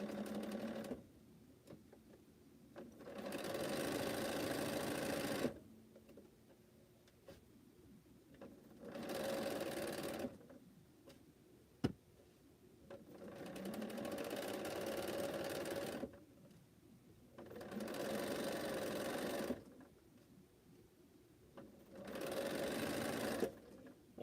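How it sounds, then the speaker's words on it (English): A sewing machine running a straight seam across a quilt block, its motor buzzing in five steady bursts of a few seconds each, separated by quiet pauses, close and clear with no talking. "And sew a straight seam"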